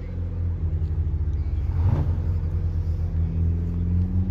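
A Mitsubishi Eclipse's engine rumbles steadily nearby at a car meet, with a swell of revving in the middle before settling back to a deep, continuous growl.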